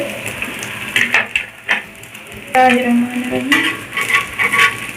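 Potato tikkis (aloo tikki) fry in a pan after being flipped to the other side, giving a steady close sizzle broken by scraping and clinking of a utensil against the pan.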